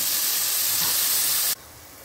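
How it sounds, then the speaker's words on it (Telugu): Onions frying in a pan give a loud, steady, close hiss that cuts off abruptly near the end, leaving a quieter sizzle, with no talk. "ఉల్లిపాయలు వేగిపోయాయి కదా"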